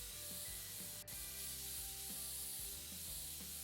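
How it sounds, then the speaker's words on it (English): A can of compressed air sprays to blow dust out of a computer, a steady hiss running unbroken under faint mechanical clicks and rubbing noises, fairly quiet and close. "why we're using a can of spray, this is compressed air"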